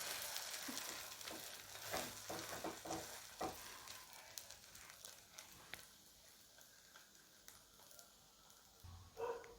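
A sweet bread omelette, bread dipped in egg, frying in oil in a pan, with a steady close sizzle and crackle and a few sharp clinks of a utensil against the pan.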